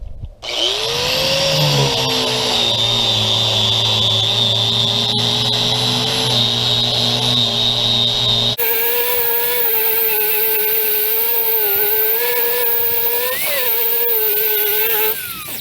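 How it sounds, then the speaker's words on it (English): A 9 amp, 4.5 inch angle grinder with a wire brush runs loud and steady while stripping a deck, its high motor whine holding constant and then shifting pitch as the brush bites into the wood. "now we'll try the wire brush out. This is a 9 amp"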